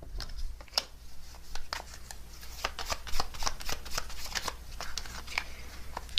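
Tarot cards shuffled and drawn by hand, a steady run of crisp riffling snaps and soft slides close up, continuing without pause and with no talk over them.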